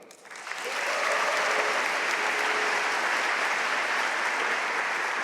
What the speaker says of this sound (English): please give a round of applause for those and all the award winners